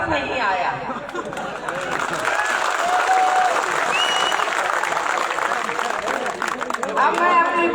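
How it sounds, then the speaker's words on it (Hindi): Crowd clapping at a political public address in Darbhanga, steady applause mixed with chatter and a few whistles, continuing across the whole stretch. "इसका अंदाजा हमें आपकी तालियों से लगता है कि पसंद नहीं आया।"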